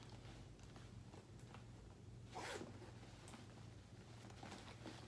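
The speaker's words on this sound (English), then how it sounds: "this is her center zip" A zipper is pulled along the center zip pocket of a handbag, a short, soft rasping zip heard close and quiet, with no talking.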